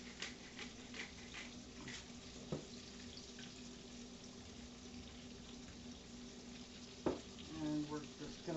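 A spoon scrapes and clinks quietly in a pan as milk gravy seasoned with salt and pepper is stirred, with soft liquid swishing, a faint sizzle and a couple of sharper knocks, low and close.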